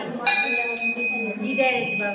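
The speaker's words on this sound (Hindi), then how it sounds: "घंटी बजा दो।" A temple bell rings at a Hindu shrine, two sharp metallic strikes with a sustained bright ringing tone that lingers and decays, with voices present.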